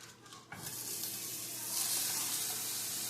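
Butter hits a hot frying pan readied for steaks and breaks into a steady, bright sizzle that swells and holds, close by with no voices.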